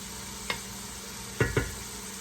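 Sausage and ham brown in a pan of hot olive oil, a steady soft sizzle broken by a few light scraping stirs, close and quiet with no talking.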